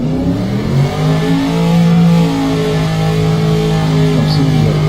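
A racing car's engine in rFactor 2, revving loud and steady with the pitch rising and falling, close and sustained without pause.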